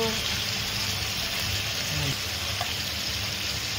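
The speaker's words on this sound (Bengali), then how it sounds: "একটু হালকা করে চিকেনটাকে খালি করে ফ্রাই করে নেওয়া হচ্ছে" Chicken pieces fry in a pan with whole garam masala such as cinnamon and cloves, producing a steady, close hiss and crackle of hot oil that holds constant throughout.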